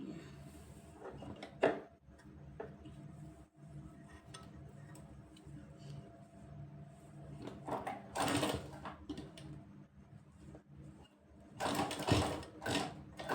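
Short, quiet bursts of a sewing machine stitching a kurti collar come between soft ticking and handling of fabric, with two stronger runs near the end.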